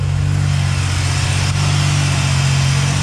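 Supercharged Pontiac Bonneville SSEi engine running under the hood, a loud steady mechanical drone with a strong low hum and broadband whine, revving slightly above idle and unbroken by talk.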